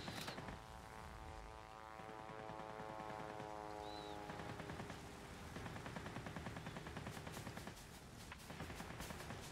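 Aircraft machine guns firing in a flight combat game, a steady faint rattle of rapid shots over continuous engine drone, with a brief chattering burst near the end.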